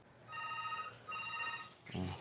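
A telephone rings indoors in two trilling electronic bursts with a short gap between them, fairly faint, followed by a brief dull thump.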